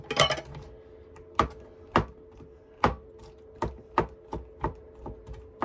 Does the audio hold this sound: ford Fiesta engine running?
no